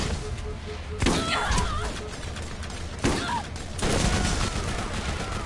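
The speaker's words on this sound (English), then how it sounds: "sorry, I couldn't really hear you over all the gunshots." Rapid bursts of gunfire in the video game Borderlands crackle over a constant noisy background, with heavier volleys landing near the one-, three- and four-second marks.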